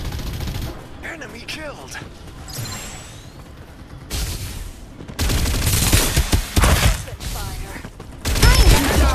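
Gunfire in the battle royale game Farlight 84 comes in loud bursts and rapid volleys, with quieter gaps between them and a sharp final flurry, while voices and game announcements speak over the shooting.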